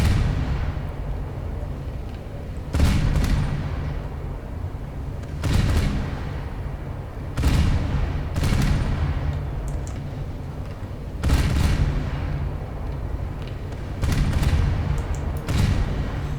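Naval guns in War Thunder firing high-explosive shells at a heavy cruiser, loud deep booms roughly every two to three seconds, each with a short rolling echo, over a constant low engine and sea rumble, with no talking.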